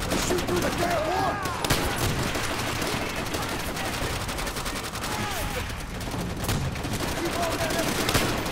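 Machine gun fire in Call of Duty: World at War, dense continuous bursts of rapid shots that blend into a steady crackling barrage, with faint voices underneath.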